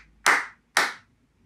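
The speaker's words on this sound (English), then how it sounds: "How many claps are there at the end of the first line?" Two crisp, loud hand claps, evenly spaced about half a second apart, mark the end of a line in a children's song, alone with silence around them.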